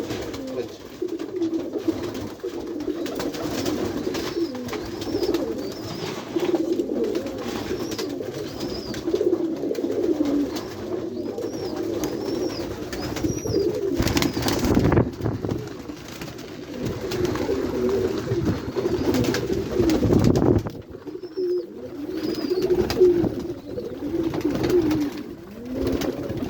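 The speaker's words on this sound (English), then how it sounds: "My best pigeons, she came to me" White pigeons coo repeatedly in a loft, soft throaty calls rising and falling close by over a steady low rustle, with occasional higher chirps and a few handling bumps.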